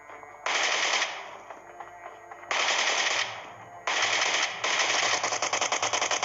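A PP-Bizon submachine gun firing in a military-base combat video game, with long sustained automatic bursts broken by short pauses and a final burst of distinct rapid shots, loud and close, without talk.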